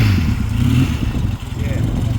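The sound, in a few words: Yamaha RD350 LC twin motorcycle engine running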